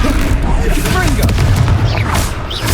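A Confringo explosive spell from Hogwarts Legacy bursts in a loud, booming blast amid a busy, noisy duel with voices calling out spells.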